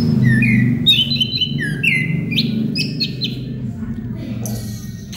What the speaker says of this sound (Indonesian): saya dekatkan kawan ya, biar nanti kawan-kawan bisa melihat kicauannya seperti apa